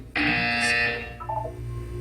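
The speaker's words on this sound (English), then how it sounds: "When you hear the buzzer, look up at the ceiling." A loud, steady electronic buzzer blares for about a second, then drops into softer falling beeps over a low hum.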